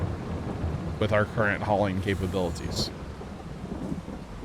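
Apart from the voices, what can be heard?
thunderstorm with rain in Farming Simulator 22 video game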